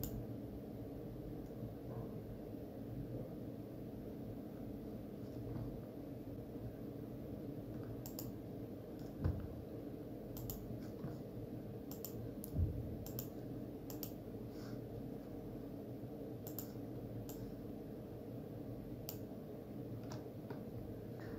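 A computer mouse gives sparse, light clicks and faint ticks scattered over a steady background hum, quiet and close, with no talking.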